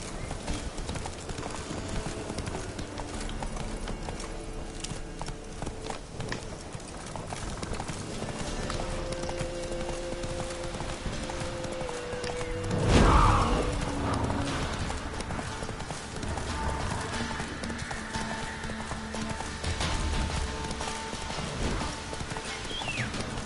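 Geralt's horse Roach galloping in The Witcher 3, a steady, rhythmic clip-clop of hooves under game music, with a brief louder burst midway.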